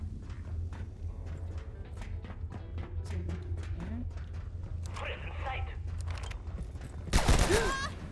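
Bursts of gunfire from enemies in the video game Abiotic Factor, a short rapid volley near the end over a steady low game ambience, with scattered game noises and a voice talking throughout.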